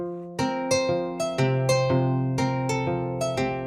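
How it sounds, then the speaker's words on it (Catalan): A kora, the African harp-lute, plays a run of bright plucked notes, each attack ringing with rich harmonics and decaying before the next, close and clear with no voices. "una cora, que és un instrument africà que sona així"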